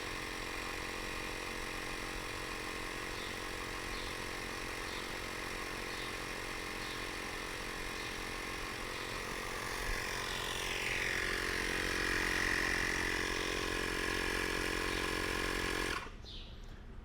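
A Gulu portable tire inflator pumps up a tire from about 13 psi to 35 psi, giving a steady, loud mechanical drone that holds for most of the stretch and cuts off abruptly near the end, with no talk.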